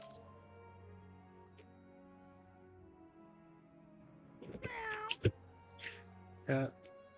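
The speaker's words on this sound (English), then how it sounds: "Here's the Fire Cat." A Fire Cat pet from the game Wizard101 gives a few short meows near the end, fairly clear over a low sustained game music background, with brief clicks in between.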